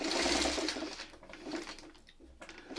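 Sewing machine stitching a quilt block seam, a soft close whirring run that stops and starts briefly, faint and alone.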